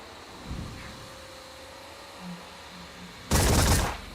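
Gunfire in the game Terror From the Deep: a faint early pop, then one loud, noisy burst of shooting lasting about half a second over a quiet, humming background.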